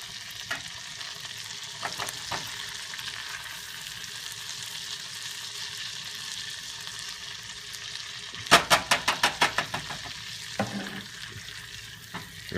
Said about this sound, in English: I'm gonna mix this around a little bit so the garlic doesn't burn